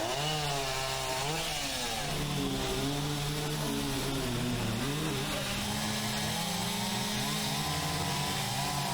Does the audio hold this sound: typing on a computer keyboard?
no